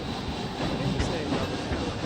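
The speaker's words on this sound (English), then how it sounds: "And this is Rush Canyon, a mine train" A mine train roller coaster in Planet Coaster rolls along its track, giving a steady, loud rumbling clatter that stays dense and even throughout, with no voice in the foreground.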